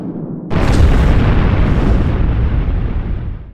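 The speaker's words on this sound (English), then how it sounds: "The explosion so close to me left me dazed and confused." Heavy artillery shell exploding close by, an abrupt loud boom that rolls on as a sustained rumbling roar for about three seconds before cutting off, with no talk.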